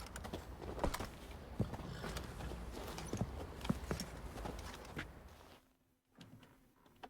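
Horse hooves clip-clopping in The Witcher 3, a steady run of hoof knocks at a walking pace close by, then a short pause before a few more steps.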